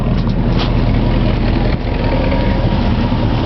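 A 1963 Ford Thunderbird's 390 V8 idling close by, a loud, steady low rumble with an even, continuous throb throughout.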